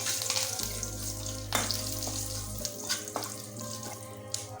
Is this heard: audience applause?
no